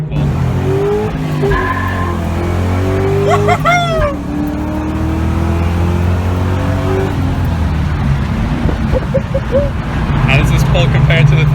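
A 2004 Ford Mustang Mach 1 with a New Edge setup makes a hard highway pull, its loud engine note climbing steeply, dropping briefly at a gear change and then rising again under steady road and wind roar.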